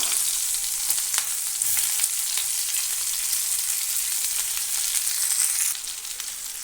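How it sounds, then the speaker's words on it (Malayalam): Chopped ridge gourd sizzles steadily in a pan with green chillies, a constant bright frying hiss close by with a few faint scrapes, easing slightly near the end, no talking. "ഇനി അരിഞ്ഞു വെച്ചിരിക്കുന്ന പീച്ചിങ്ങ കൂടെ ഇതിലേക്ക് ഇട്ട് കൊടുക്കാം."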